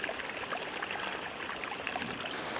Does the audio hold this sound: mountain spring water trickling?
yes